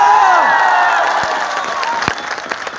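A large university audience at Bundelkhand University campus in Jhansi bursts into loud applause and cheering, sustained clapping that gradually fades, with a few whoops and a voice rising over it.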